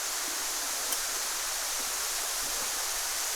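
Steady, dense roar of a waterfall in Ilocos Norte, a constant rushing hiss of falling water that stays even throughout with no other sounds.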